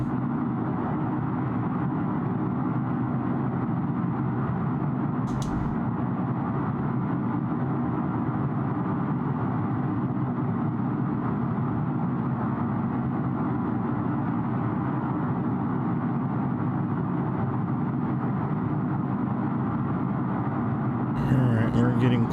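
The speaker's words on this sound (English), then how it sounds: "And we do have the burners on." A Northrop F-5 Tiger II jet roars with afterburners lit in MSFS 2024, a steady, dense engine rumble that holds for the whole stretch at constant loudness, with someone talking over it.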